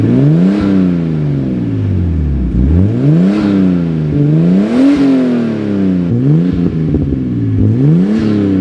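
A Nissan R34 Skyline engine revs repeatedly. It rises in pitch and falls back about four times in close, loud, rhythmic sweeps, with some mechanical clatter between revs.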